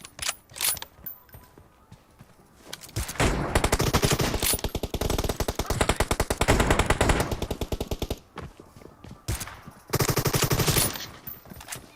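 Heavy automatic gunfire in PUBG rattles in long, sustained bursts, with sporadic single shots and brief pauses in between, close and loud, with mechanical clicks around the firing and no voices.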